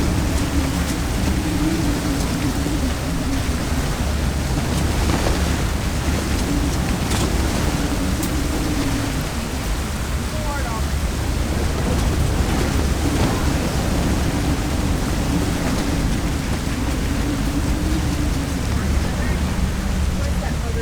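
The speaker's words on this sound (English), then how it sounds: "We've got 42 knots of wind." Howling 42-knot storm wind buffets a catamaran at sea, a loud continuous broadband roar with surging gusts and rushing water, steady throughout with no pauses.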